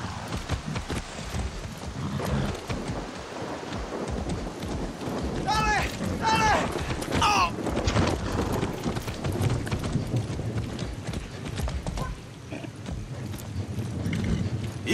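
Horse hooves clip-clop at a steady trot in the video game Far Cry 6, with occasional whinnies and a voice speaking over the galloping.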